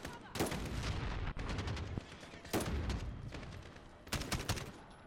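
Automatic AK rifle gunfire in the Call of Duty: Modern Warfare campaign mission Highway of Death, three loud sustained bursts of rapid shots separated by short gaps, with dense battle noise underneath.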